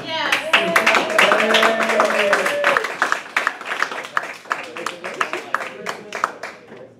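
A Toastmasters meeting audience claps in a run of sharp, irregular hand claps that continue for several seconds, while a voice talks over the start.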